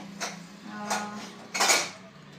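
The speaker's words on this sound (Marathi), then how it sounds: "छान भांडी वगैरे घासले" Dishes are being washed, with a few clinks and clatters of utensils over a low steady hum; three distinct bursts of clanking.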